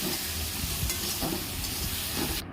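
A thick spice paste for mutton curry sizzles and spatters in a hot pan while being stirred, with scraping strokes, close and steady.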